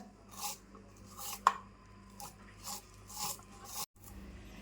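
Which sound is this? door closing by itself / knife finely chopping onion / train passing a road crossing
knife finely chopping onion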